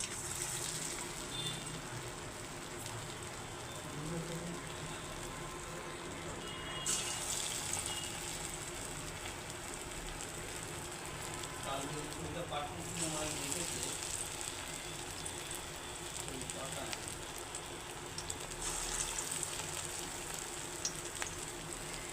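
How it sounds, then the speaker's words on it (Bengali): Small dollops of pumpkin fritter batter sizzle and crackle in hot oil in a wok over a low gas flame, a continuous hiss with fresh bursts as more batter drops in, under occasional talking. "এই দেখুন কড়াইয়ে তেল গরম হয়ে গেছে এখন আমি ছোট্ট ছোট্ট করে বড়িগুলো দিয়ে দিচ্ছি"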